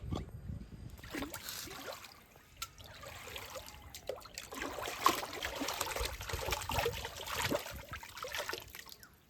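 A burnt pan is being washed with water beside a pond, with water trickling and splashing in uneven bursts alongside scrubbing and handling noises, close by and moderately quiet.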